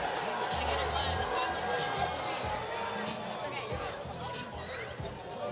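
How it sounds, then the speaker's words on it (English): Fans cheer and shout for fighter German Taboada at a Bakersfield Combat Promotions bout, a loud, steady roar of crowd noise with voices mixed in throughout. "He's got a cheering section right now going wild for him."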